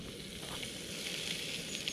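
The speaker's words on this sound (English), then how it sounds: "We've got some action sizzling over there." Food sizzling on a camping stove at a riverside wild camp, a steady close hiss and crackle of frying that holds evenly throughout with no voices.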